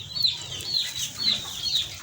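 Chickens raised for meat on a poultry breeding farm cluck close by in a steady series of four or five short, bright calls over low barn background noise.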